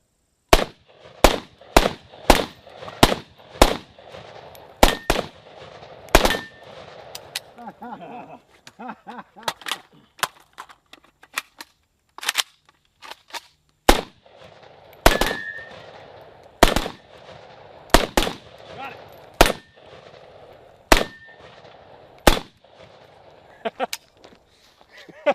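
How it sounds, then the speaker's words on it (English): Two Draco pistols fire back and forth in an outdoor duel, sharp loud shots in quick bursts and single cracks spread across the span, with short gaps and people talking between volleys. "we did not test to see where these guns are hitting"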